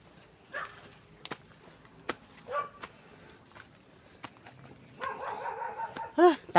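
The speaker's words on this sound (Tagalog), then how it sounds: "Pare may aso." A dog near a garden hut barks a few times at scattered moments, short voiced yelps against quiet outdoor background with occasional clicks, growing slightly busier near the end.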